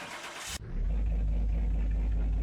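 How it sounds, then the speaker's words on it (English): A BMW 635 CSi with an inline-six M30 B35 engine in the Car Mechanic Simulator game cranks and catches, then settles into a loud, steady, rumbling idle, heard alone and close. "let's get this one started and hear what the i6 M30 B35 engine sounds like"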